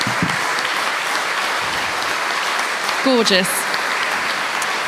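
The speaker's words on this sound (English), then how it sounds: "So another enormous round of applause to our singers and to Bradley this evening, our pianist." Sustained applause from an audience at an opera gala honoring the singers and pianist, a steady broadband clapping wash throughout, with a short exclamation from a voice partway through.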